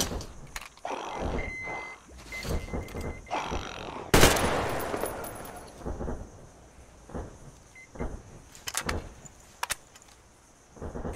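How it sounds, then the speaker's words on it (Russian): Scattered sharp bursts crack out in irregular clusters, with one loud blast midway, like gunfire in the video game Metro Exodus Enhanced Edition, separated by quieter gaps. "Какие-то выстрелы."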